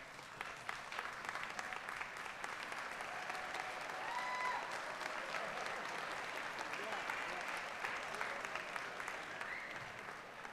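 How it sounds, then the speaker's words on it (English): A graduation crowd at a spring nursing commencement stands and applauds, a dense, steady wash of many hands clapping that carries on for several seconds, heard from a distance across a large hall. "But give them a round of applause for all that they have done for you."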